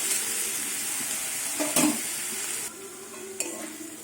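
Banana stem fries in a hot pan with a steady, close sizzle, broken by a couple of brief stirring scrapes and clinks.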